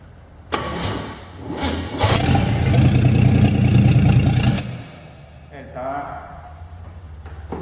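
A GM 261 six-cylinder engine that seems to be flooding cranks and catches, revving roughly and loudly for a few seconds before dropping away, with someone talking over it afterward.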